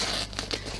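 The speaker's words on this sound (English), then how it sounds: "Okay, so I'm going to tear away all of this stabiliser." Tear-away embroidery stabiliser pulled off a clutch bag, a short close crinkling, papery rip in a few quick bursts, with no voices.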